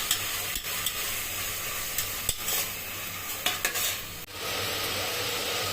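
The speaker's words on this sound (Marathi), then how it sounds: "पुदिना कोथिंबीर ते छान परतवून घ्यायचं" Chopped mint and coriander sautéing in a pan, a steady bright sizzle with spoon stirring and occasional scrapes and taps against the metal, close up with no voices.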